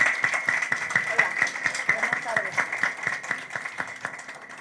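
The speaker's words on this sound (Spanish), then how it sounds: "les pido un fuerte aplauso para recibir" An audience applauds to welcome a magistrate at a public event on political violence against women, with steady, dense clapping throughout at moderate volume.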